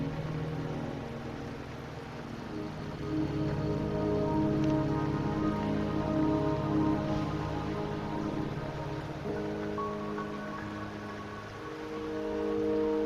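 Rain falls in the video game Wuthering Waves, a steady patter of drops hitting surfaces beneath a layer of soft tonal music, swelling slightly midway and staying even throughout.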